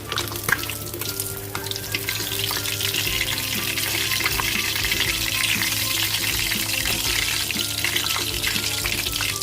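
Tilapia fish fries in hot oil with a steady, dense sizzle and crackle throughout, up close and even in loudness, with faint kitchen clatter underneath.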